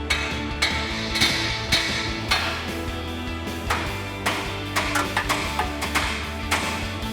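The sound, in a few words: hammer striking to break Jeep ball joints free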